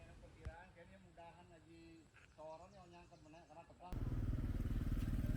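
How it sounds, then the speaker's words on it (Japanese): Motorcycles pass along a rural road among rice paddies in Bali, with birds and insects chirping in the background and people speaking over the first part, then a loud, close engine roar from about four seconds on. "バイクもビュンビュン通るので気をつけましょう。"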